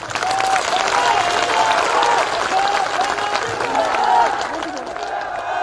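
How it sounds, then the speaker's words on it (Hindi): A large seated crowd at a Meena community convention applauds together in a dense, loud, continuous roar of clapping that holds steady throughout, with faint voices underneath. "पूरा कुंड में बैठा हुआ एक साथ में ताली बजाता है"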